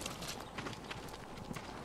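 Horse hooves clip-clop in the video game Ghost of Tsushima, a quiet, steady rhythmic patter of hoofbeats across the whole moment with faint background sound.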